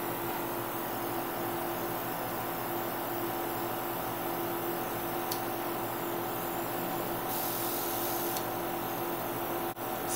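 Continuous airbrush spraying makeup foundation, a steady close hiss with a faint mechanical hum beneath it, running unbroken and without voices.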